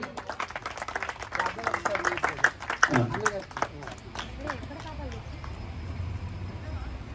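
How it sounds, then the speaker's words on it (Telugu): A church congregation claps in rhythm at a Christmas prayer service in Boduppal. The clapping is brisk and fairly close, with a person talking over it, then fades into quieter murmuring. "ఫుల్ సపోర్ట్ అందరు చప్పట్లు."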